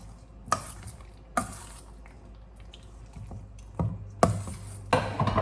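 Food being stirred in a pan: a few separate scraping strokes with short bursts of sizzle, close by, with quiet pauses between them and no talking.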